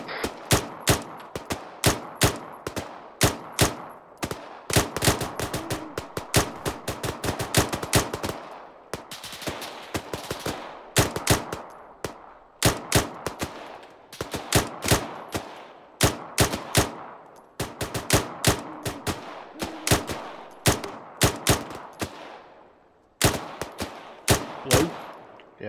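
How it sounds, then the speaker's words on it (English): Rapid bursts of automatic gunfire from an Arma 3 military firefight set in Afghanistan crack repeatedly and loudly throughout, with short pauses between volleys and overlapping shots. "Charlie, give covering fire."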